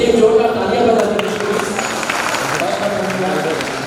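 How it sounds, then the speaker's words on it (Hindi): Enthusiastic audience clapping at a Janmashtami devotional stage program, a steady broadband patter sustained across the clip, loud and close, with a faint tonal hum beneath early on. "उनके लिए जोरदार तालियां बजा दीजिए"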